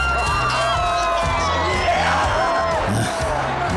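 A Super Rugby crowd in New Zealand roars in a continuous, loud wash of cheering and shouting from a stadium full of fans, with no break across the moment.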